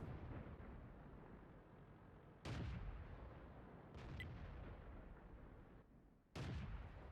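Artillery fire in the tank game World of Tanks, three heavy booming shots spaced a few seconds apart over a constant low rumble, fairly close and loud.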